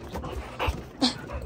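A dog sitting at home, heard nearby with soft panting breaths and a couple of brief whimpering or yipping sounds over a steady background hiss.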